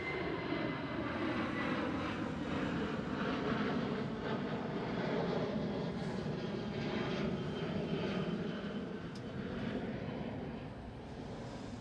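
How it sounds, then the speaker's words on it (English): A KLM Boeing 737 jet at Amsterdam Schiphol airport gives off a loud, continuous engine roar that holds steady throughout and eases slightly toward the end, with no voices over it. "This time KLM 737."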